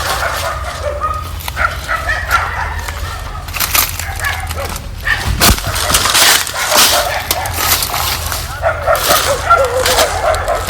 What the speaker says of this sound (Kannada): ನಾಯಿಗಳ ಸಂಘ.